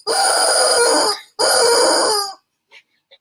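A rooster crows as a radio sound effect, loud and close, in two long blaring bursts separated by a short gap. Faint brief sounds follow after it ends.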